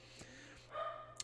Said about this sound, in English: So excuse my dog barking.